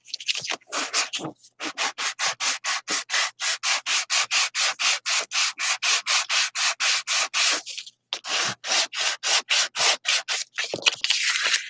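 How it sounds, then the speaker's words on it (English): Rapid, steady back-and-forth sanding strokes on a surface, loud and close, dozens of even rasping passes in a fast rhythm with a couple of short pauses and no talking. "I'm going to sand this down."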